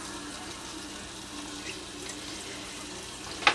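Water from a sink tap rinsing drained canned mushrooms: a steady, moderately close stream of running water throughout, ending with a brief clink.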